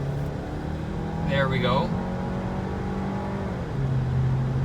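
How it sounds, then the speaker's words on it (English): A VW Tiguan R-Line accelerates gently, its engine a steady low drone that swells slightly from inside the cabin while someone talks over it. "So we're just going to accelerate a little bit."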